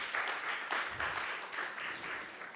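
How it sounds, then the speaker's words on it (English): Applause from an audience at a temple gathering for a disappearance day celebration, steady clapping in rolling waves that swell and ease over a few seconds, moderately loud and alone. "Please give a big round of applause to her."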